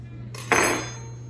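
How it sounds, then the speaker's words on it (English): A knife cuts a tablespoon of butter off a stick in a home kitchen, giving a single soft clack as the blade meets the board, then a short smeared scrape fading away. "Let me grab my knife here, which I didn't grab out before, and get the tablespoon cut off."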